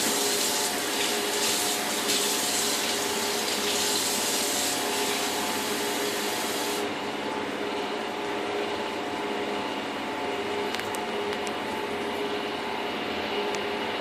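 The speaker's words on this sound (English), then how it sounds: "Now we're going to add about 3/4 of a cup of warm water." Warm water runs steadily for dissolving yeast for grandma rolls, a continuous hissing flow from a faucet or pump. Its brighter top end drops away midway and the rest carries on evenly, with no voices.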